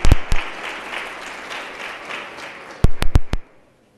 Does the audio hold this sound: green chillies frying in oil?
no